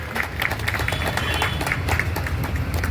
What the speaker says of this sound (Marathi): टाळ्या सगळ्यांच्या.